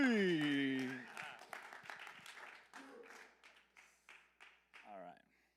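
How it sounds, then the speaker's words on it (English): At a youth church gathering, a sustained voiced tone gives way to sparse, rhythmic hand clapping from the crowd welcoming Pastor Justin Kayne. The separate claps come fairly close and slowly fade out. "clap your hands for Pastor Justin Kayne"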